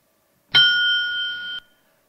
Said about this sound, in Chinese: 将听到一声铃响